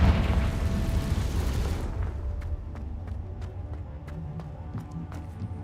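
Confringo explosion spell blasting in the video game Hogwarts Legacy, a loud booming burst up front that decays into a rumbling tail with faint scattered ticks and clatter afterward.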